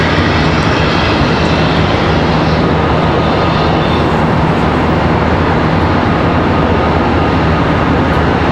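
Frontier Airlines jet departing Charlotte Douglas for Miami, a loud, continuous deep engine rumble holding steady throughout with no talking.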